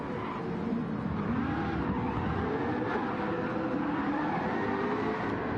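Race cars in a sim racing game at Catalunya slide and skid around the track, a steady wash of engine drone and tyre noise with wavering pitch, loud and continuous throughout.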